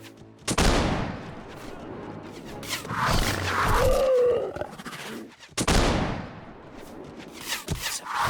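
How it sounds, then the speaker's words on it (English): Ranged enemies fire on the player down a castle hallway in the video game Warsword, heavy booming impacts and blasts arriving in loud bursts amid a roaring, growling game soundscape. "So just a hallway where you get shot at while you go through it."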